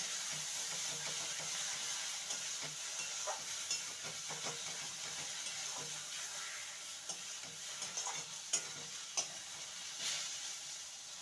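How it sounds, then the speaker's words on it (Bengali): Lentils being stirred together with mashed pointed gourd in a hot pan, a steady soft sizzle with scraping stir strokes and a few sharper clinks, no talking. "এবারে পটলের সঙ্গে ম্যাশ করা পটলের সঙ্গে ভালো করে ডালটাকে মিশিয়ে নেব।"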